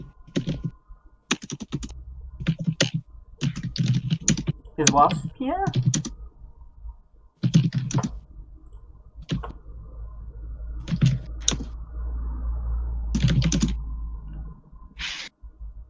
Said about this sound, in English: I think I'm hearing him typing.